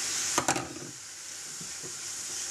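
A few quick scrapes and knocks of a utensil as mushrooms are stirred into wilted spinach in a pan, followed by a steady soft sizzle and hiss.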